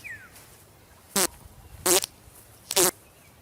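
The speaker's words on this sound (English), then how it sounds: "Can't go wrong with fart noises." A fart noise sound effect plays three short buzzy blasts, spaced about a second apart, each loud and close against a quiet background.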